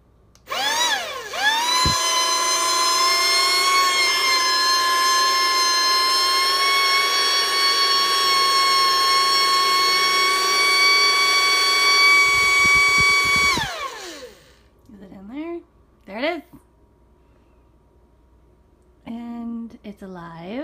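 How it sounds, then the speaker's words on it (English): A handheld spider vacuum bug catcher runs with a loud, high motor whine that spins up, holds steady for about twelve seconds, then winds down, followed by short buzzing bursts and a voice speaking. "This is spider vacuum."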